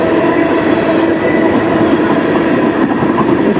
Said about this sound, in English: This might be a fuel train.